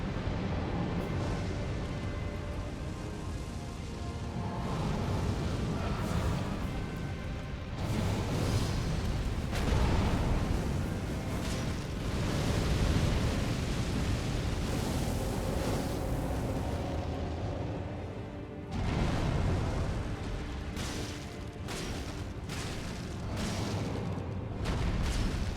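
The Fire Giant boss in Elden Ring builds up a fire attack, a sustained loud roaring, rumbling blast with booming bursts that carries on continuously, with a brief dip before it surges again.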